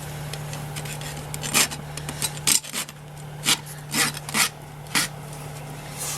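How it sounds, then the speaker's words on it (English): A farrier's rasp scrapes along the edges of a horseshoe fitted with copper E-head nails, giving about eight separate gritty strokes spaced irregularly over a steady low background hum. "Then I take my rasp just one time over to smooth the smooth edges there."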